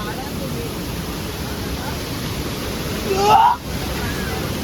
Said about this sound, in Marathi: बघा तुम्ही आमचा धबधबा कसा वावते बघा